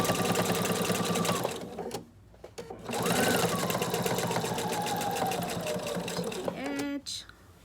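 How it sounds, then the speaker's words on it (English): A sewing machine stitches fabric coasters in a rapid steady whir, pausing briefly near the middle and again at the end before restarting. "then you would put your presser foot down and keep sewing."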